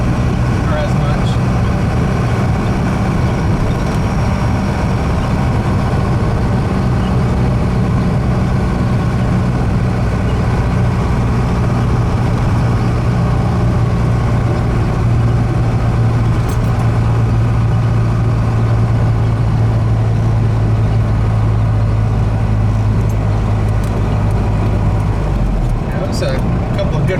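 Cummins truck driving along a rough road, a loud continuous engine drone with a low rumble and rattling from the cab throughout.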